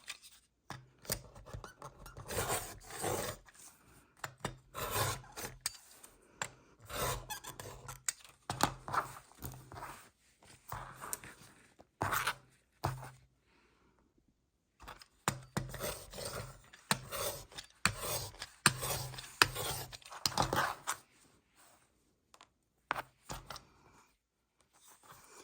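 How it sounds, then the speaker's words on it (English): Scissors snipping fabric scraps into smaller pieces while making a fabric snippet roll, bursts of close rasping cuts and rustling cloth separated by short quiet gaps, with no talking. "we're just cutting up our scraps into smaller pieces"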